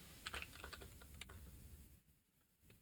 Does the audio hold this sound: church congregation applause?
no